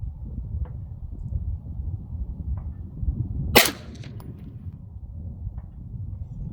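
A single sharp rifle shot from a Knights Armament SR-15 E-3 at an outdoor target range cracks out once midway, loud and brief over a steady low background rumble.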